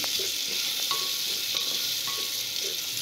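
Tomatoes sauté in a pan with a steady, close sizzle throughout, broken by light scraping and stirring taps at regular intervals, with no talking.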